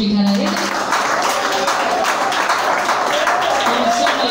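Church congregation applauding during a worship song, a steady background of many hands clapping under loud music, with a voice over it.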